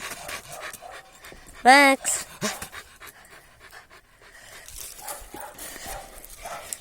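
A dog pants in quick, rhythmic breaths close up, with a sharp bark-like burst early on and soft shuffling around it.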